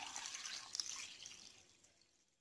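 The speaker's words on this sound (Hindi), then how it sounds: "इसके अंदर अब मैं पानी डाल रही हूँ।" Water pours into a pan of beef paya with a steady splashing gush that gradually fades over a couple of seconds, quiet and close, with no talk.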